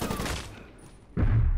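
Rifle gunfire in the video game Medal of Honor Warfighter: a loud, sudden burst of shots near the end, after a quieter stretch of fading rumble.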